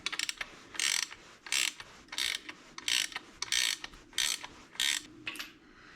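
A ratchet wrench tightens a bolt on a Muncie or Saginaw three-speed floor shifter, giving about eight short bursts of clicking in a steady back-and-forth rhythm, close and clear with no talking.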